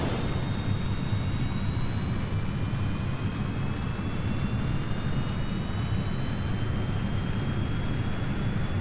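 Steady, loud roar of a jet engine on a craft in Kerbal Space Program, a continuous broadband rumble with a faint rising whine running throughout, no voices.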